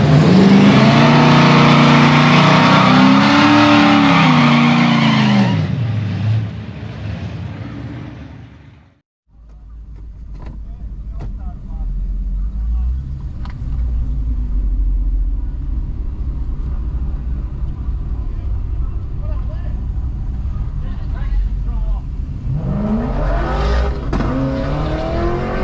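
A Lexus IS F launches down a quarter-mile drag strip at a street series event, its V8 roaring loudly through rising gears before fading away into the distance, then a low idling rumble and another engine swelling near the end.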